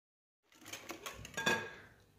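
Madeleine batter being stirred in a bowl with vanilla and a pinch of salt, giving a run of close, scraping clinks and taps of a utensil against the bowl for about two seconds after a brief silence.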